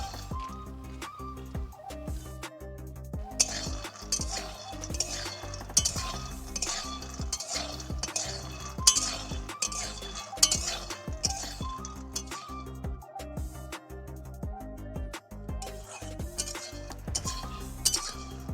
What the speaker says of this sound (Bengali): তো এখানে দেখুন আমি বাদামগুলো ভেজে নিচ্ছি।